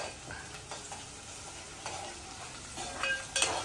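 Onion-based chicken kharda masala fries in a pan with a faint, steady sizzle, and a few soft stirring scrapes rise briefly above it.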